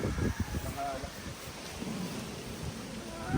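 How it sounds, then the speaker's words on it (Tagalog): Strong wind gusts outdoors buffet the microphone in a rough, rumbling roar with uneven surges, while a person talks over it. "Malakas yung hangin."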